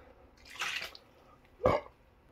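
Water poured from a cup into an Instant Pot of keto chili with diced tomatoes and green chilies, heard as two short splashing pours close by, the second sharper and louder, with no talking.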